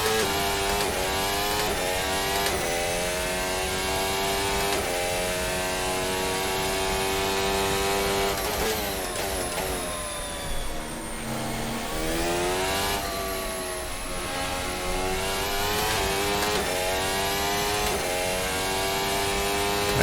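A simulated Formula Hybrid 2022 F1 car in Assetto Corsa screams loudly and continuously with its engine note up close, climbing through the gears and running into seventh on a short straight, with a brief lift and rev drop partway through before it climbs again.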